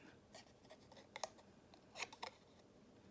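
Scissors fussy-cutting a paper shape in a quiet room, a series of crisp close snips, some single and some in quick pairs, with faint paper rustling between them.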